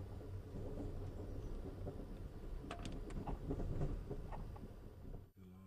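Amtrak passenger train rolling steadily along the rails, a continuous low wheel rumble with faint intermittent clicks, ending in a brief sudden drop near the close.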